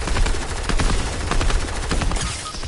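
Gunfire in a shooting video game, dense rapid bursts of automatic weapon fire running continuously and loudly with almost no pause.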